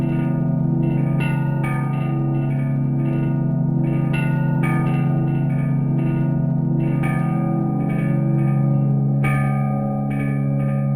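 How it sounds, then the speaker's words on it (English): A game bell rings in the Eldet visual novel, with repeated struck tones over a sustained, reverberant hum. Strikes recur every second or so at steady loudness, with no voices. "That's the bell."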